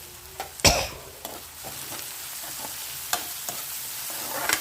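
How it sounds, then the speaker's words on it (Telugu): Onions frying in a pan with salt, a steady close sizzle broken by a sharp clatter early on and occasional stirring scrapes. "బాగా వేయించుకోవాలి ఉల్లిపాయల్ని"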